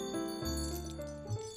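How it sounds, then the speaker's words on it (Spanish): Wind chime ringing in an animated cartoon, bright sustained bell-like tones layered over music, short and fairly loud with no talk. "Hace días me hizo esta hermosa campana de viento."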